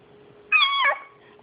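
A 20-month-old toddler imitates a cat with a single clear, high-pitched meow lasting about half a second, close and distinct against quiet room background.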